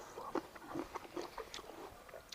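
Someone bites into and chews a crunchy Kishmish Avatar seedless grape, making quiet, close, crisp crunches in quick succession with no talk.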